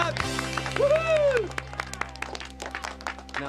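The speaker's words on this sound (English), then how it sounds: "Okay, big clap, big clap." An audience claps after a sung nursery rhyme on a live-action children's television comedy show. The clapping comes as a scatter of sharp claps over sustained musical tones and a sliding whistle-like note, with a voice briefly present.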